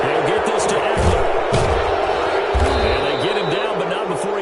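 Loud video game football stadium crowd reacting to a penalty call, a broad roaring swell with heavy low thuds, close and continuous for several seconds, with a commentator's voice on top.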